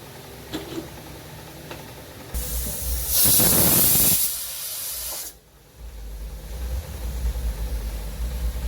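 A pressure cooker holding whole masoor dal lets out one loud steam whistle, a hissing, shrieking burst of a couple of seconds that then cuts off, with a low rumble before and after.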